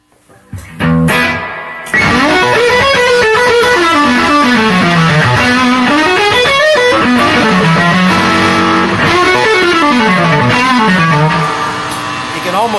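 An electric guitar played through a Vemuram Myriad Fuzz pedal rings out in loud, saturated melodic runs and bends that rise and fall, with a thick fuzzy tone sustained throughout.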